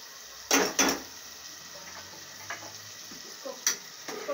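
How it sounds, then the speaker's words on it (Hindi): Ingredients for a bean dish fry in a pan while a utensil stirs and scrapes, giving a few sharp clatters over a soft, steady sizzle, with no talking. "इसको भून लूंगी मैं"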